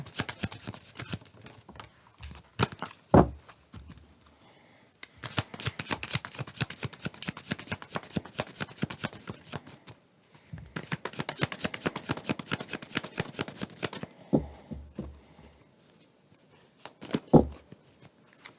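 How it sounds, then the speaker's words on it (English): Tarot cards shuffled close up in several long bursts of rapid riffling flutter, separated by pauses and a few sharp taps as the deck is squared, quiet and with no talk. "to put 2 cards there and then reshuffle to get the changing aspects"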